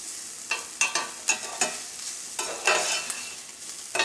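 Bitter gourd frying in a pan for a Kerala pavakka curry, with a spoon scraping and stirring in sharp repeated strokes over a soft continuous sizzle, close and clear without any talk.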